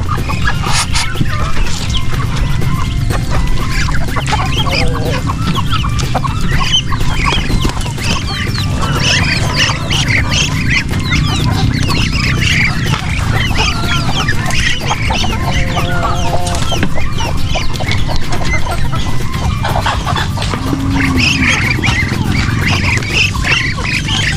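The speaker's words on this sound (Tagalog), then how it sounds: "tutukain ng mga manok" Many chickens cluck and squawk continuously in a busy, noisy poultry yard while pecking at grass under a net, with occasional louder calls over a constant rustling background.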